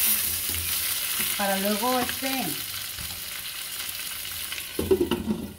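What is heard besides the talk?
tomatoes frying in a pan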